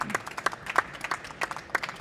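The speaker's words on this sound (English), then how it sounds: "A big round of applause for Chris, please." A small studio audience at a self-recording band podcast taping claps for the guest: a sparse scattering of distinct, fairly faint handclaps rather than a full ovation.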